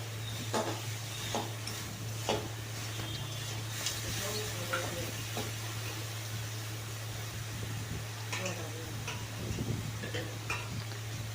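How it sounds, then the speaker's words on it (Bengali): Chickpeas with onion and spices stirred in a pan for ghugni, soft scraping and light clinks of a spoon against the pan over a faint sizzle and a low steady hum. "তো এগুলোকে হালকাভাবে নাড়িয়ে চাড়িয়ে নেব যাতে মশলাটা পুরো মিশে যায় আর ভাজাও সুন্দরভাবে হয়ে যায়।"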